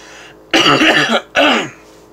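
Two harsh, loud coughs close to the microphone, the first longer and the second shorter, separated by a brief pause with quiet between them.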